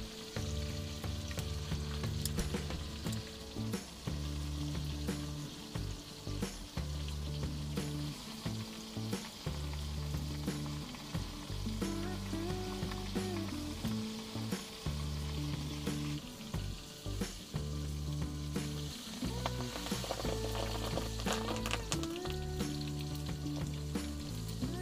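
Tilapia wrapped in banana leaf fries in a pan, sizzling steadily with repeated sharp pops and crackles, close and continuous with no voices.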